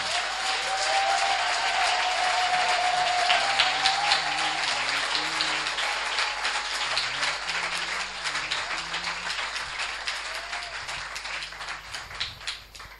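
A church congregation applauds loudly for the Lord, dense sustained clapping that fills the space for over ten seconds and slowly thins toward the end, with faint music beneath.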